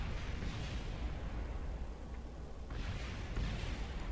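Service module breaking apart during a high-G test in Kerbal Space Program, a continuous loud rumbling roar of rocket noise with a few dull booming swells, steady throughout and with no talk.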